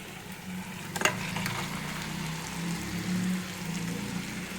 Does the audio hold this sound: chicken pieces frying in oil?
yes